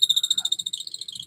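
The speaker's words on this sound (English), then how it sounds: "What causes that squeaking is these grooves get filled with wood, and then it's rubbing as it's going through." A bit rubbing through dry wood on a woodturning lathe, with its flutes packed with wood, gives a high-pitched squeak that pulses rapidly and steadily for just over a second, fairly faint and with no talk.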